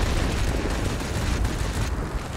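Plane destroyed in World of Warplanes, a loud, dense rumbling explosion with crackling gunfire-like bursts filling the whole moment, with no pause in the roar.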